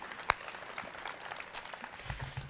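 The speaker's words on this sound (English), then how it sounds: "Give them a big round of applause." Faint, sparse applause from a storytelling faculty concert audience at South Mountain Community College, with a few scattered claps standing out over a quiet room.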